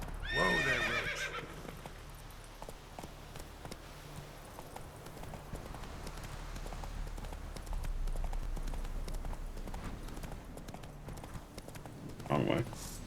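In The Witcher 3, the horse Roach neighs loudly at the start and again near the end, with steady clip-clop hoofbeats of galloping running between the whinnies, faint beneath a person talking.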